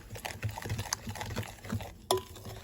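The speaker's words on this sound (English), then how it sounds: "So, make sure my egg and my sugar are stirred in pretty good." A spoon stirs egg and sugar into lemon zucchini bread batter in a bowl, making a steady run of soft, quiet scraping and clicking strokes, with one sharper clink near the end.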